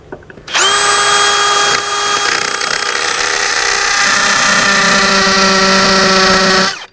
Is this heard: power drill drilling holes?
yes